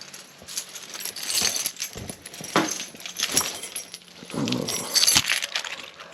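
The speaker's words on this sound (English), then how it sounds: "Too many keys." A bunch of keys jangles and clinks near the switch of a 1968 Oldsmobile 442, irregular metallic rattling in short bursts, close and moderately loud.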